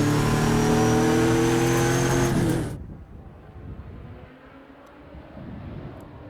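A Trans Am race car heard from on board at Thunderhill during a Western Championship race, its engine screaming loud at high revs, then suddenly cutting to a low distant rumble and wind noise.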